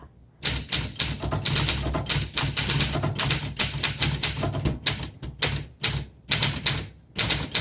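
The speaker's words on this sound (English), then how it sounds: "I can tell so much better when I'm actually typing a sentence how well the typewriter works" Rapid, uneven keystrokes clack on a 1974 Olympia SM8 manual typewriter, close and loud, in bursts with brief pauses between words.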